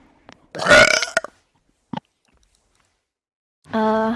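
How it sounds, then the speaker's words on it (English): A woman lets out a long, loud burp, then after a short pause a second, deep and resonant burp rises near the end, with small mouth clicks in between. "What is going on? Why am I burping?"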